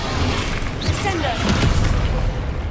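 A Descendo spell crashes down during Hogwarts Legacy combat, giving heavy booming impacts that peak about midway amid steady battle noise and voices.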